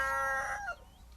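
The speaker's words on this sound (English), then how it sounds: "His battle cry is cock-a-doodlum." A rooster gives a single short crow, bright and nasal, sounding close and alone over a low background hum.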